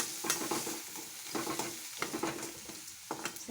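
Chili powder, turmeric and salt sautéing in a pan, with a soft continuous sizzle under repeated stirring scrapes that come in uneven bursts, close and moderately quiet.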